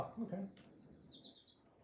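A bird in the video game Little Kitty Big City gives short, high chirps toward the end, after a brief burst of talk and soft game sounds.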